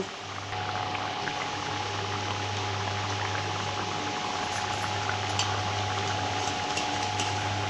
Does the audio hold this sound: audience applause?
no